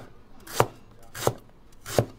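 A kitchen knife chops through ginger slices on a cutting board: three crisp, evenly spaced thuds about two-thirds of a second apart, close and clear with nothing else heard.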